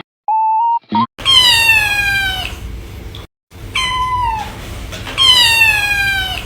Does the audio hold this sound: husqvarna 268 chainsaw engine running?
no